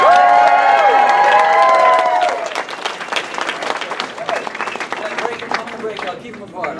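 Convention crowd at a Karate Kid reunion Q&A at Steel City Con applauding and cheering, loud and close, with shouting voices and clapping continuing as the noise settles.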